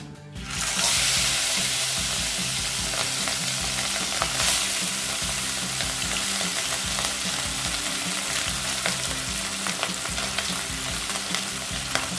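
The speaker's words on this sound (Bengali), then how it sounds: "বাকি মাছ দুটো ভেজে নেব।" Rohu fish pieces fry in a pan over a high gas flame, a loud continuous sizzle and spatter joined by repeated utensil scrapes and stirring, steady from start to finish with no voices.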